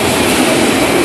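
A freight train rolls slowly past on the rails, its cars giving a loud, steady, close rumble with wheel and rail clatter throughout and no voices.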